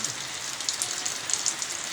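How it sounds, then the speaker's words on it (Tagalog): Heavy rain pours down during a typhoon onto a house whose roof has been torn away, a steady, dense hiss that fills the scene without a break. "Malakas yung ulan."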